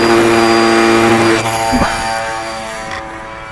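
Old Crow RC airplane hand launched at full throttle into the wind, its propeller motor buzzing loudly and steadily at first, then shifting and fading slightly as the plane climbs away.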